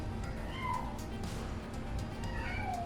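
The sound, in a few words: cats meowing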